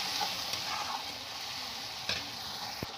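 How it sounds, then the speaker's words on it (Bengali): Ground chili, turmeric and cumin fry in oil as they are stirred for a fish curry, a steady close sizzle with a few sharp scrapes of the spoon against the pan. "খুব ভালো করে কষিয়ে নেব যতক্ষণ না মশলা থেকে তেল ছাড়ছে।"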